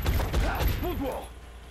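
Reaction gunfire in the strategy video game XCOM: Enemy Within, a quick burst of several loud shots packed into the opening second, then mechanical whirring and fading tones as the volley dies away.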